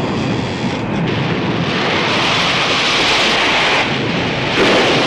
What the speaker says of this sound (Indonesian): Di tengah dahsyatnya badai